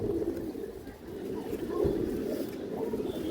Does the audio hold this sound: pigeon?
yes